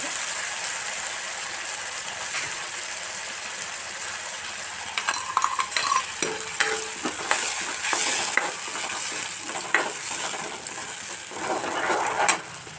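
Tomato puree made from a medium tomato sizzles steadily in a pan, with a run of metal spoon scrapes and clinks in the second half as it is stirred, heard up close.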